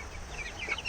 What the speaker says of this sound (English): I've got some new chicks.